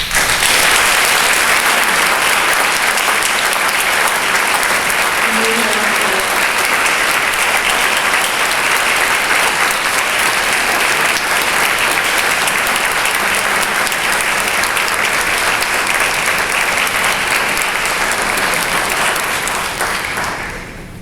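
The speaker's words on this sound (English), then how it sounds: "let's give her a round of applause" Audience at an architectural historians' event gives sustained, dense applause for over twenty seconds, a steady broad roar of many hands clapping that fades only at the very end.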